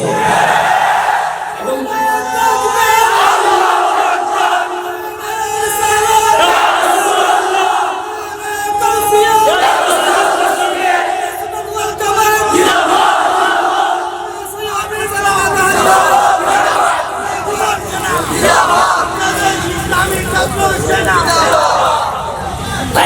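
A large crowd at a Sunni religious sermon gathering chants a slogan loudly in rolling, repeated waves of massed voices, sustained throughout with cheering swells.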